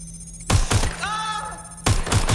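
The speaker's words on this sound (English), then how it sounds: "Someone's shooting!" Gunshots ring out in the Watch Dogs Legion video game: pairs of sharp, loud bangs come in two bursts, with a steady tonal whine in the gap between them.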